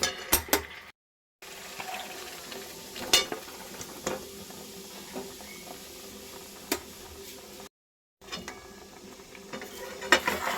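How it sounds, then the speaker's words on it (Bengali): Marinated chicken going into a hot pan for a potato chicken curry, with a steady sizzle broken by scattered clinks of utensil against metal and two brief dropouts. "এবার আমি দিয়ে দিচ্ছি আগে থেকে ম্যারিনেট করে রাখা মাংসটা।"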